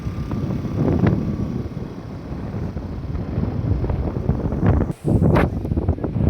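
Strong wind at the Chaturmukh temple buffets the microphone in a constant rushing roar, with one brief dip before the gusting resumes.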